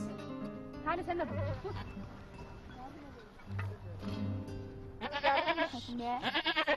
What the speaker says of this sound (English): One of the goats has gone into labor.